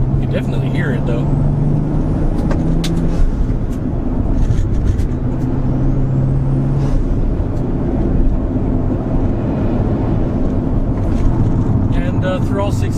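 Toyota Supra JZA80 driving with a steady engine drone and rising tones as it works through six gears, heard from inside under ongoing talk.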